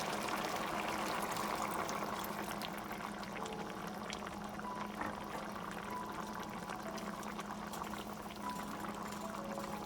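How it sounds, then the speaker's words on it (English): Water poured into a pot of simmering squash soup, a steady liquid pour and bubbling running continuously at low level throughout. "I think I'm going to add a little bit more water"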